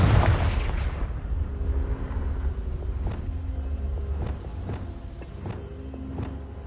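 A loud booming blast from the Confringo spell in the fantasy game Hogwarts Legacy, heavy at first and rumbling down, then followed by a series of fainter thuds and pops over a low drone.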